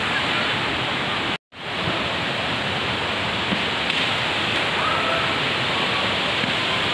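Rushing water roars steadily at a waterfall at the Dikrutpi picnic spot in Karbi Anglong, a broad, loud wash of noise broken only by a brief dropout.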